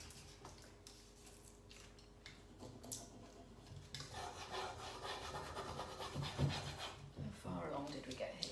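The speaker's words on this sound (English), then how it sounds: "just keep rubbing, keep constantly rubbing" Continuous rubbing of a stencil transfer onto a wooden piece, steady scraping strokes that grow louder and busier partway through, close to the microphone with light talk in the background.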